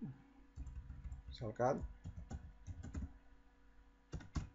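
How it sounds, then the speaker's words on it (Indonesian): Keys clack on a computer keyboard in short, scattered bursts while someone speaks quietly over them, the typing soft and close at a desk. "Kita ketik."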